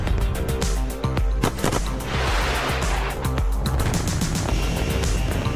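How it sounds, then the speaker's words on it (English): Sonic booms from Vega C rocket boosters during a launch: a dense, loud roar with several sharp, thunderous cracks rumbling through it, like distant booms rolling over a steady low rumble. "Just heard the 2 sonic booms here in the room."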